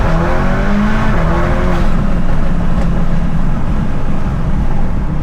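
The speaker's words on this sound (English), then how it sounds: "Here's a quick wide open throttle." A VW MK8 fitted with a Trackslag downpipe roars under wide open throttle, its loud exhaust note climbing in pitch as the engine revs hard.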